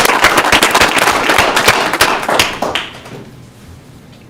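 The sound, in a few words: round of applause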